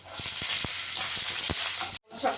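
Green chillies frying in hot oil in a pan alongside ginger and garlic: a dense, close sizzle punctuated by several sharp clicks of a spatula stirring, then a sudden stop.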